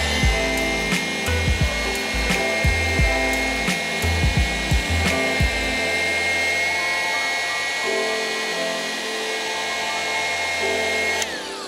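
A glass polishing machine fitted with a 50 mm pad whirs with a steady high-pitched motor whine, interrupted by a series of rhythmic low thumps early on, then running smoothly and loud.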